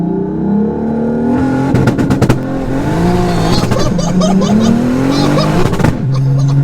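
A car engine revs hard and climbs through gears, pitch rising and dropping between shifts, with a sharp crackle and people talking over it.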